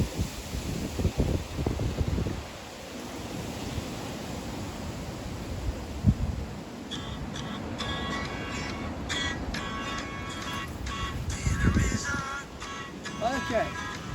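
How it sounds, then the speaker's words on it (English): Strong outdoor wind roars and buffets the microphone during an open-air T'ai Chi lesson, rising and falling in gusts, with a person speaking briefly and some rustling over it. "Very windy, whoa."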